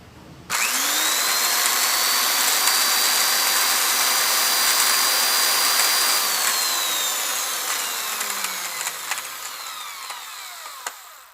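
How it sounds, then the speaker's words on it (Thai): A power drill with a cutting bit cuts into an old metal tin can with a loud, steady high-pitched whine and grinding that holds for several seconds, then tapers off with scattered clicks. "ให้เรานำสว่านนะครับ สว่านตัดนะครับ มาตัดปี๊บนะครับ"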